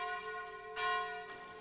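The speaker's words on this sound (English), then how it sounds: "church bells are a reassuring reminder that all is well" Church bells ringing in a village in eastern France, with sustained metallic tones and a fresh strike partway through, resonant and clear with no other sounds.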